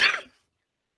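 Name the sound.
cough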